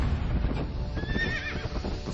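Horses neighing, with one clear rising and falling whinny in the middle over a dense bed of clip-clopping hooves, loud and close.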